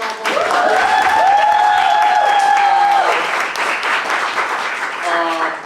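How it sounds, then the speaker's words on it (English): Sustained audience applause at a poets laureate panel, a steady, dense patter of clapping that fills the whole stretch at close range, with a voice-like tone sounding over it early on. "let's give a round of applause for that."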